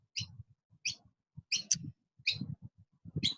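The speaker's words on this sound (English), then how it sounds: "I have a gorgeous bird making noise there" A bird calls repeatedly close by: a series of sharp chirps comes in short bursts about every half second, with a low rumble of background noise around them.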